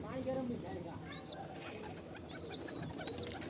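Pigeons kept in nesting boxes coo softly and continuously, a low murmur with faint higher chirps now and then, fairly distant.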